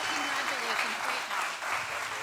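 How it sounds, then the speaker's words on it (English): Audience at a high school pitch event applauds after an award presentation, a continuous wash of clapping heard at moderate distance, with some talk mixed in. "How about another round of applause for Levi?"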